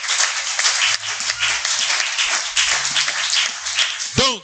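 A church congregation applauds during a Sunday sermon, a steady dense clapping that fills the whole stretch at fairly loud level, with brief voices and a short vocal call rising near the end.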